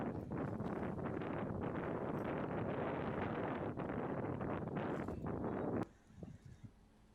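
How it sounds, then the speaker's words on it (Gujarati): Strong wind buffets the microphone on a seashore, a steady loud roar of gusts that drops away abruptly near the end, leaving quieter rustling. "દરિયા કિનારે પવન ફૂંકાઈ રહ્યો છે"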